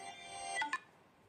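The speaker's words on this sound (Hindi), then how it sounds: "और एक मिनट, किसका फ़ोन आ रहा है" A mobile phone ringtone plays at home, a brief electronic melody of tonal notes ending in two quick higher beeps, fairly faint, with no talk over it.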